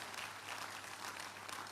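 Church congregation applauding during a midweek communion service, a dense steady wash of clapping that holds evenly loud for the whole moment without pauses.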